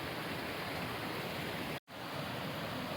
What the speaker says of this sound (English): The waterfall's a bit loud, there's more water in it than I've ever seen before